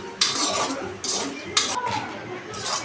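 Dry red chillies are fried on a low flame while a spoon stirs them around a pan, giving four distinct scraping sweeps over a soft background sizzle.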